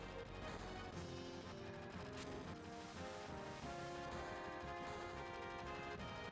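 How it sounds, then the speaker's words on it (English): Faint bursts of distant gunfire crackle beneath a busy, layered mix of game music and effects in Final Fantasy VII. "Gunfire?"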